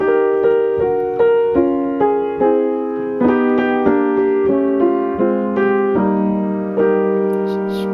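A song's verse melody on piano in two-note harmony, paired notes moving downward in thirds at an even, gentle pace with no voices.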